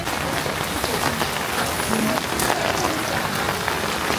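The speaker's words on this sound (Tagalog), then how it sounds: "umuulan pa rin" Rain falls in Bukchon Hanok Village, Seoul, as a dense, steady patter across surfaces, moderately loud and continuous, with faint activity in the background.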